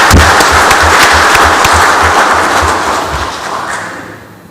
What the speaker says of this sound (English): let's give him a congratulatory round of applause